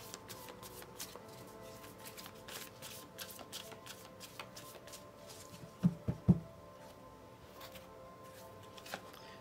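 Tarot cards shuffled by hand, with a steady flutter of riffling and soft slaps close up, a few sharper knocks as cards are set down midway, then more light shuffling.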